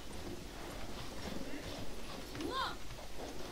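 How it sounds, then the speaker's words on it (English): A horse's hooves clip-clop at a quick pace in the video game Battlefield 1, fairly faint beneath overlapping talk and game noise. "I'm gonna hijack the horse that he's left."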